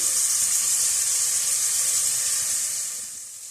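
Steady, loud hiss of finely chopped onion frying in hot oil, a continuous bright sizzle that fades slightly toward the end, with no talking.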